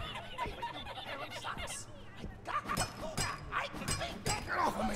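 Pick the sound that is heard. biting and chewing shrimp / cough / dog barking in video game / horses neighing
dog barking in video game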